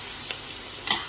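Onion frying in a pan with cumin and coriander sizzles steadily up close, broken by two brief scraping stir sounds, the second louder, with no talking.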